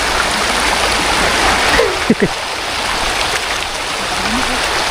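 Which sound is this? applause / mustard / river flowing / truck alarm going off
river flowing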